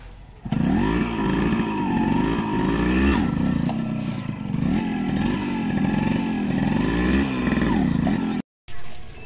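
A Yamaha RX100 two-stroke motorcycle is ridden during a pickup test, its engine buzzing loud and close with repeated rising and falling revs as it accelerates and eases off, cutting out briefly near the end.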